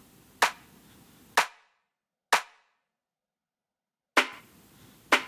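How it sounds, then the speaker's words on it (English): Dry clap drum sample from a deep tech beat, sharp and snappy, struck five times in a sparse pattern with short decays and silent gaps between hits. "Okay, in the claps we've got a clap,"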